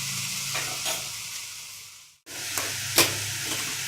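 Chowmein with soy sauce is stir-fried in a pan, a steady loud sizzle with scraping spatula strokes, a brief break in the middle, then sizzling resumes with a sharp clank of utensil on metal.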